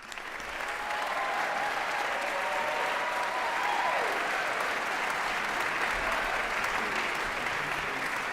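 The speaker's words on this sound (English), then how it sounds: "please a warm round of applause for James O'Connelly" At a postgraduate graduation ceremony, a large audience claps in a sustained, even round of applause that swells in quickly and holds steady for about eight seconds, with a faint voice under it.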